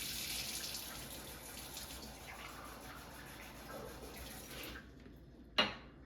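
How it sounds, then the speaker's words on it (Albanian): Tap water runs from a faucet in a steady faint stream, then cuts off abruptly near the end, followed by a single sharp clink. "do të marr ca ujë nga çezma"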